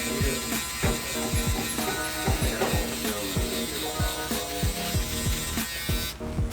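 An electric shaver, one of a Babyliss, a Braun Series 9 or a Finale, runs with a steady buzzing motor while rhythmic scraping strokes repeat roughly every half second, close and fairly loud, with no talking.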